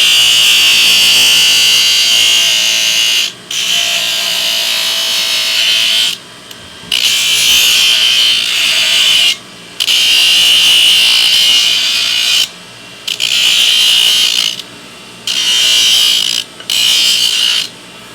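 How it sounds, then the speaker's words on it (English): A bench grinder works a steel horseshoe during a full shoeing job on an uneven hoof, a loud, steady high-pitched grinding whine that comes in long bursts broken by short pauses, with no talking. "So when you grind a shoe like that much, you got to make sure you don't have sharp spots."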